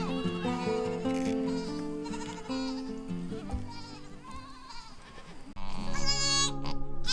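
Goats bleating in an open pasture, loud overlapping calls running steadily through the whole stretch with no talking.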